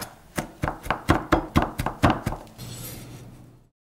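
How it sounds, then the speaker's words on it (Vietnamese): A knife chops chili peppers rapidly on a board, about a dozen sharp, evenly spaced strikes, close and crisp, trailing off into a softer scraping. "Băm thêm vài trái ớt để lát nữa cho vô nước chấm."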